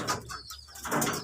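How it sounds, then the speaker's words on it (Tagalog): Large, muscular pigeons being handled up close, giving soft cooing calls and a brief rustle of stiff wings, with short bursts of sound separated by a quiet gap. "Laking ibon."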